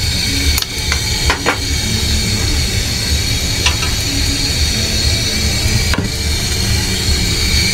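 Chitol fish being stirred with spices in a pan, a steady sizzle and scrape with occasional sharp knocks of a utensil against the pan, close and continuous.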